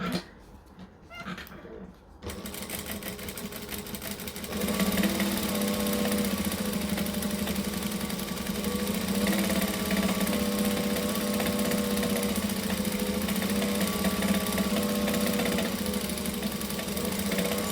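Sewing machine stitching through layers of fabric, a steady continuous whirring run that starts after a brief quieter moment and holds at an even level, close by.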